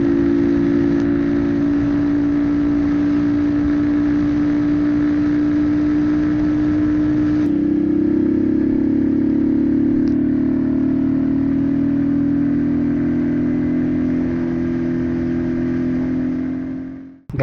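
A Yamaha MT-15 motorcycle rides along a forest ghat road, its engine droning steadily and loudly with a slight shift in pitch midway, plus constant wind rush, fading away at the very end.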